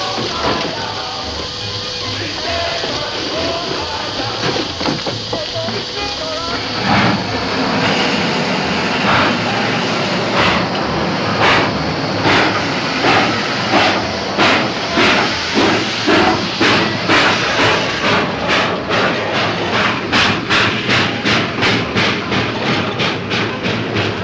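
An old steam locomotive hauling flatcars pulls away, its exhaust starting as a loud rumbling roar and settling into rapid, evenly spaced chuffs that quicken as the train gathers speed.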